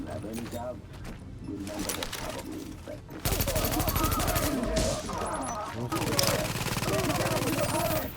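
Bursts of automatic gunfire and scattered shots in the Tom Clancy's The Division shooter, crackling in rapid volleys that grow denser and louder partway through, with no voices over the shooting.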